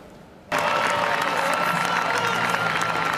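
A parade crowd at the Rose Parade bursts into loud, sustained cheering and applause as a soldier surprises his family, the roar starting abruptly and holding steady to the end.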